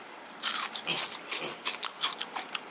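Crisp crunching bites into a crispy homemade French fry with the skin still attached, a close, repeated series of sharp crackly crunches and chewing with no talking.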